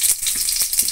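Onion frying in hot oil for a tempering with mustard seeds, a close, steady sizzle with brief stirring scrapes, heard alone without talk.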